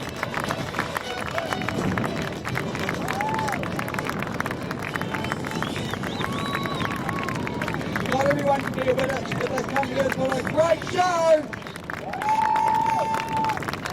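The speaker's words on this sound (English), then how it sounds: "please keep the applause going for our boat crews" A crowd at an Australian Olympic team athlete presentation applauds and cheers steadily throughout, a broad wash of clapping and hubbub under an announcer speaking over a PA.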